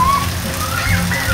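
Heavy rain pours during a hot dry season with no wind, giving a steady dense hiss of rain on surfaces. It is loud and continuous through this short moment, and a faint tone drifts over it.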